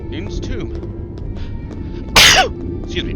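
A single loud sneeze bursts out sharply, set against a background of quiet speech and low room murmur.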